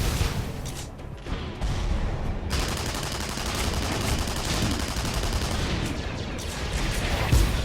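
SMG fire in the sci-fi shooter Tribes: Ascend sounds as a dense, continuous rattle of rapid shots with booming game effects layered in, loud and unbroken for the whole stretch.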